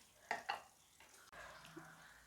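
Beef pickle (beef achar) fried and stirred in a pan with chili powder and turmeric: faint, soft scraping stirs and a low sizzle, quiet and close, with no talking.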